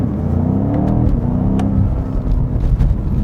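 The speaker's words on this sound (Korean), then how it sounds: "지금도 그냥 뭐 3, 4천 RPM에서 변속 한번 때려볼게요" A BMW M5 CS engine revs around 3,000–4,000 RPM and snaps through a gear shift, a loud, close, steady mechanical roar with a brief break at the change.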